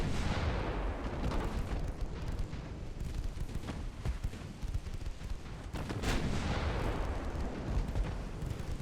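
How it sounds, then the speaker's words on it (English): Heavy naval gunfire from a warship's 5-inch guns in Ultimate Admiral Dreadnoughts, a dense, continuous rumble of overlapping booms and blasts, loud and sustained with a sharper report near the six-second mark. "Huge hit with the 5-inch guns as well"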